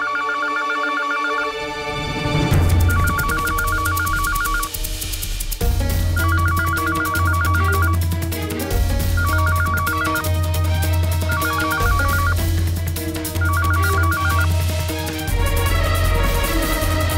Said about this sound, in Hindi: जरा देख तो बाहर किसका फोन बज रहा है।